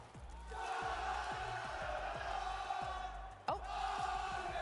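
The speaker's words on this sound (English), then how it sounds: "we've certainly got some of the crowd going" Crowd of fans at a Fortnite Global Championship 2023 tournament arena cheering, with a steady roar of voices, rhythmic clapping or thumping beats, and a brief dip followed by a sharp surge near the end.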